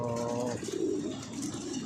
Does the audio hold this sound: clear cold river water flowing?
no